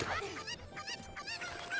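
Cuckoo chickens in Ocarina of Time give a few short, nasal honking clucks in quick succession, close and fairly loud over a quiet game background.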